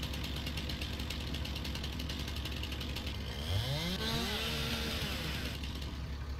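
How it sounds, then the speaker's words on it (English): Chainsaw running in Farming Simulator while clearing junk at an old barn, a steady buzzing engine drone throughout, with its pitch rising and sweeping as the saw revs up and cuts around the midpoint. "Get the old chainsaw out."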